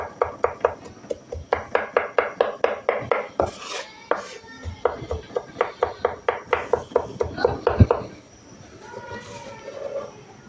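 A knife chops garlic finely on a board, a quick, steady run of crisp taps in two long bursts with a brief pause between, close and clear, followed by quieter handling sounds.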